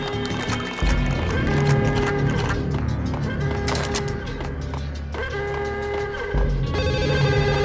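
A telephone rings repeatedly in the Max Payne video game, a bright bell tone cycling over the game's background sounds and other effects.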